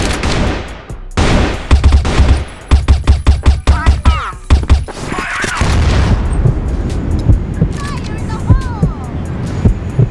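Rapid bursts of gunfire from a weapon in a shooting video game, sharp repeated shots in quick clusters, followed by whooshing effects and game sounds, with a player talking excitedly in between.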